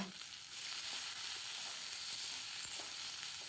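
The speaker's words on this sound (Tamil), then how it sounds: "கத்திரிக்காய், வெங்காயம் 2ம் சேர்த்துட்டு இது 2த்தையும் கொஞ்சம் வதக்கிட்டு எடுத்துக்கலாம்" Brinjal and onion sautéing in a pan for a quick chutney, a steady close sizzle with faint stirring scrapes throughout, no voices.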